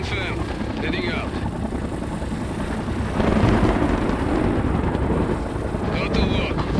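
An Mi-24 helicopter flies in the video game World in Conflict, giving a loud, continuous rotor and engine rumble that swells midway, while radio-style voices talk over it.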